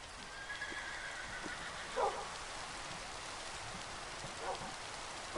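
Steady rain patters throughout a survival game world at nightfall, a soft constant hiss with a couple of faint animal calls, heard alone without talking.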